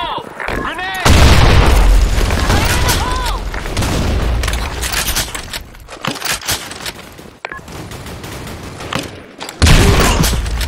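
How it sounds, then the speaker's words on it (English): Grenade and gunfire explosions in a first-person shooter game, with loud booms and bursts of shots. Someone shouts callouts over the action, and the blasts return near the start and again at the end. "Fire in the hole! Grenade!"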